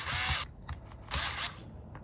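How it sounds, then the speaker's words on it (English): A power driver whirs in two bursts removing the base screws from the shock tower of a Traxxas Rustler 4x4 RC car, with a brief ratcheting stutter between them, close and loud. "you're going to take out the two screws at the base of the shock tower"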